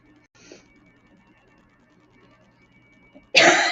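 A single harsh, close cough bursts out suddenly after a few seconds of near silence.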